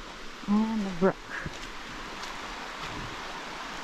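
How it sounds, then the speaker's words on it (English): A brook flows beside a campsite at Baxter State Park in September, a steady, soft rush of water, with a short bit of talking near the start. "And the brook."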